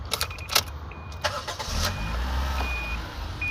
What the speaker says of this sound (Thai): ถ้าเกิดว่าเราปลดล็อกตัวนี้เมื่อไหร่หนึ่ง สอง ตัวนี้จะสตาร์ติดนะครับ